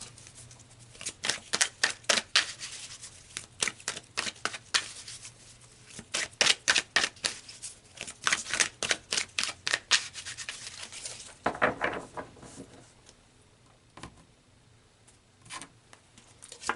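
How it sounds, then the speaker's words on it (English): Tarot cards are shuffled and pulled in quick bursts of crisp, close riffling and slapping, bunched into rhythmic clusters with short pauses between them. "let's pull some more cards"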